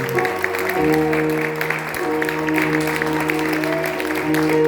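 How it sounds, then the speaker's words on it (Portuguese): Congregation applauding in a church during a Sunday service, a steady wash of clapping lasting throughout, with sustained organ or keyboard tones underneath. "Aplaude Ele mais uma vez."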